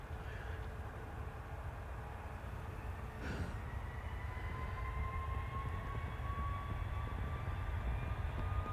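A 37-year-old Jet2 Boeing 757 spools up its engines on the runway, a broad rumbling roar with a slowly rising whine that grows steadily louder, heard from some distance.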